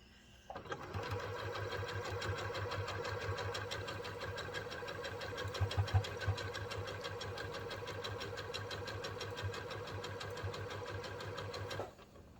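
Domestic sewing machine stitching quilt blocks for an Irish Chain quilt, a fast steady whirring rattle running continuously for about eleven seconds before stopping, close and fairly quiet.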